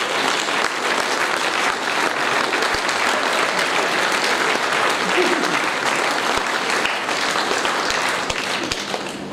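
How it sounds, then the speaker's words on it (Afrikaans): A church congregation at an Afrikaans service claps and applauds together, a dense and loud ovation that runs without a break, with voices faintly mixed in beneath it. "Kom aan, klap vir Jesus."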